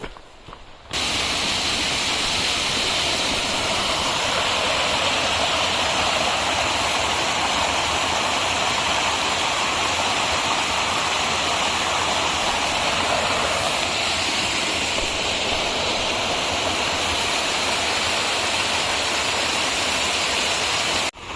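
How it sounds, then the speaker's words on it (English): A loud, continuous rush of flowing river water near Khatar Shnong, Meghalaya, a steady broad roar heard up close without pause. "just listen to the sound of the streams of rivers"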